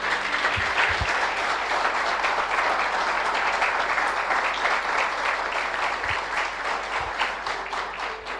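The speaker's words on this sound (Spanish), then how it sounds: "¿Puedes darle un fuerte aplauso?" A church congregation applauds in a steady, dense wash of clapping that holds for several seconds and slowly thins toward the end.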